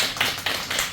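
Children clapping in a classroom: a few quick, uneven bursts of hand claps over about a second, close and fairly soft.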